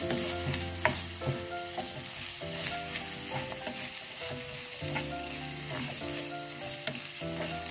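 Onions frying in oil in a pan for a curry with mushrooms, peas and cashews, a steady close sizzle with occasional stirring clatters, with no talk over it.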